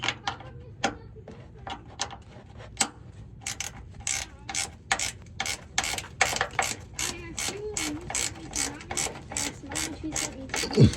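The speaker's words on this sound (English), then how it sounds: "Get my ratchet on it." A hand ratchet clicks in quick repeated bursts while removing the two lower bolts on a Cadillac CTS front fender, close and crisp, the strokes speeding into a steady rapid rhythm toward the end.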